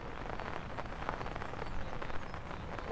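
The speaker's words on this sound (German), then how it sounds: "Es regnet schon." Rain falling steadily beside rising water during a fishing trip, making an even, continuous patter with no voices.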